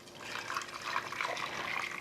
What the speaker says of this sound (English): what we used from the chicken broth, we're gonna go ahead and add it to the vegetables here